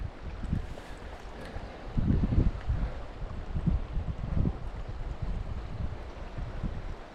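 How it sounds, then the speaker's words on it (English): Stream water rushes and gurgles steadily nearby in Molino Basin, with rumbling bursts of wind buffeting the microphone. "The water just sounds so calming."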